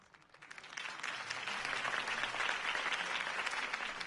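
Crowd applause in a Batman Telltale video game scene after Harvey Dent's campaign speech, clapping swelling in quickly and holding as a dense, steady ovation.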